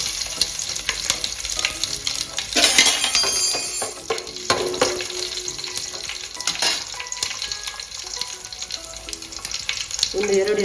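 Mustard seeds and crushed garlic spluttering in hot oil in a pan, a busy close crackle and sizzle with a louder burst of popping early on and stirring clinks throughout.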